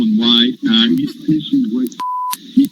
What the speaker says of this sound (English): we had to beep it out there because he used a pretty strong word